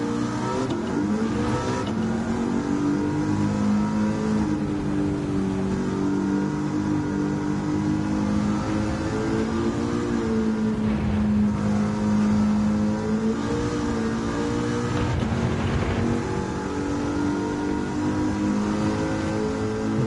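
Ford Mustang Mach 1 in Gran Turismo 7, fitted with a swapped engine, roaring steadily under load with rising and falling revs, a loud continuous drone that carries on without pause.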